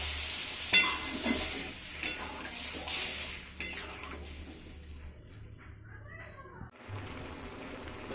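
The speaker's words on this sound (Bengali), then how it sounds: "একটু নাড়াচাড়া করে, বেশি ভাজবো না, মুসুরির ডাল তো" Masoor dal lentils and bottle gourd stirred in a pan, a soft sizzle with scraping spoon strokes at a few irregular moments, fairly quiet and close, fading near the end.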